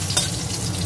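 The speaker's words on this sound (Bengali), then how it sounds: "আর এখানে আগে ভাজছি মূলোটা" Radish pieces fry in oil in a pan, giving a steady close sizzle and crackle with a brief louder burst early on, with no voices.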